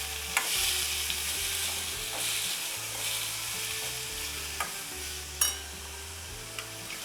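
Ingredients roasting in a little oil for Nagpur tarri poha, a steady close sizzle with spoon scrapes and stirring taps against the pan throughout.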